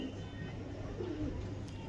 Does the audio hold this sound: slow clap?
no